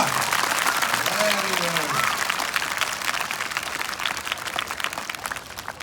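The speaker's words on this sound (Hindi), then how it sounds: "अब बजाओ जोरदार तालियां, है ना।" Loud, dense applause from an audience at a motivational comedy show in India, steady clapping that tapers slightly, with a speaker's voice briefly audible over it at the start.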